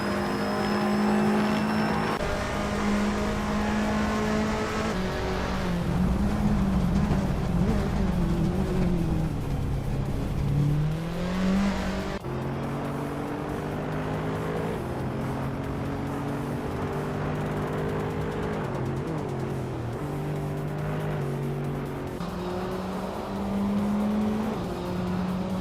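Race cars in a racing video game, a 2015 Fiat Tipo Competizione among them, engines droning and shifting pitch as they accelerate and change gear, with tire noise and passing cars, steady and loud throughout, no voices.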